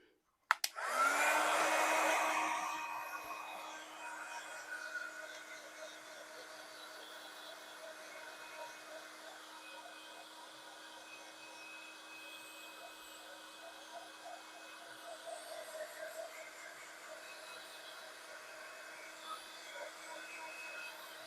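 A handheld heat tool blows steadily for about twenty seconds while drying a curled card, a loud airy whoosh that starts abruptly and settles into a constant hum.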